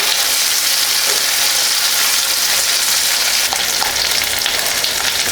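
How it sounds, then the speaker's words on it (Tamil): Green chilies and curry leaves sauté in hot oil for tamarind rice, giving a loud, continuous frying hiss with steady close sizzling throughout. "அடுத்து கருவேப்பிலை போட்டுக்கலாங்க. நல்லா வதக்கி விடலாம்."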